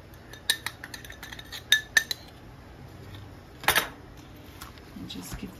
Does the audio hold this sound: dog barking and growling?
no